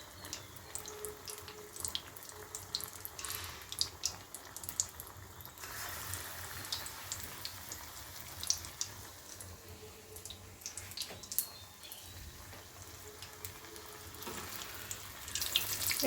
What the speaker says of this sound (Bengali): অলরেডি আমি ভাজা শুরু করে দিয়েছি